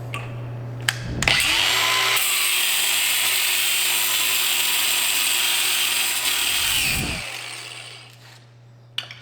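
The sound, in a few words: cutoff wheel cutting the head off a bolt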